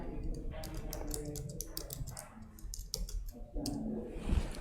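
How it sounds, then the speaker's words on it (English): Computer mouse clicks, quiet and close, come as several quick taps in a short run over a low room hum. "click on new file"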